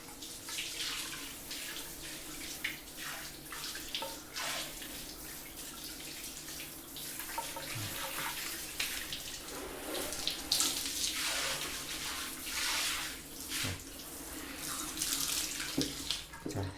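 Shower head spraying water in a bathroom during cleaning, a continuous hissing rush with small splashes and fluctuating intensity, no talking.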